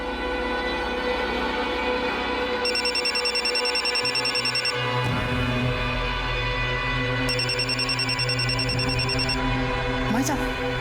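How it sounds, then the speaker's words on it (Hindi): A mobile phone rings in two bursts of a repeating electronic trill over a busy room full of background music and murmuring voices, moderately loud. "भाभी का फोन बज रहा है"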